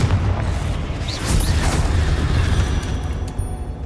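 A Confringo fire spell blasting in the Hogwarts Legacy video game, a continuous loud, booming explosive rumble with bursts of crackle, sustained throughout at close range.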